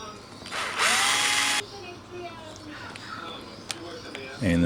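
Power screwdriver or drill whirring for just under a second as it undoes the gearbox screws on an Atomic Warhead RC buggy, a short loud burst standing clear above quieter workshop background and a distant voice.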